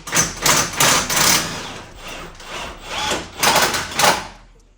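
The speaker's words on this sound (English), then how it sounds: "So we're just gonna start prying it open now." Prying apart the case of a 9th-generation Honda Civic transmission: a run of loud, irregular metallic knocks and scrapes comes in bursts across the clip, with quieter gaps between strikes and no talk.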